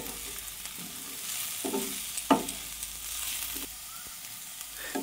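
Masoor dal masala fries in a pan with a soft sizzle, broken by a few scraping stirs of a spatula at irregular intervals, quiet and close with no talking.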